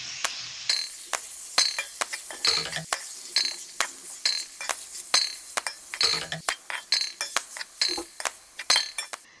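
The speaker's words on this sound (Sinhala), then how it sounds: "මේ ආකාරයට හොඳින් කලවම් කරගන්න." Mashed boiled potato mixture being stirred briskly in a bowl for potato pancakes, with a spoon clinking against the bowl in a fast, uneven run of sharp taps that speeds up toward the end. Close and fairly loud, with no talking.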